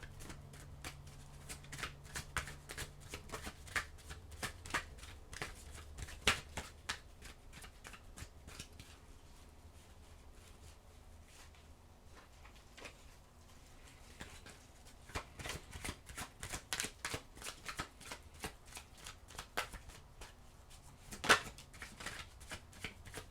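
Tarot cards are shuffled in repeated bursts of crisp riffling and slapping, close and fairly quiet, with steady pauses between runs and no talking.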